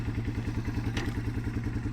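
A Yamaha TW200 motorcycle engine runs on choke, idling with a rapid, regular low thump and mechanical clatter, fairly near and steady without a clear climb.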